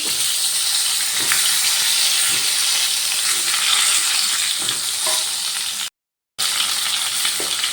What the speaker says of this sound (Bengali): তেলটা গরম হয়ে গেছে এবার যে পটলগুলো কেটে রেখেছিলাম পটলগুলো তেলের মধ্যে দিয়ে দিলাম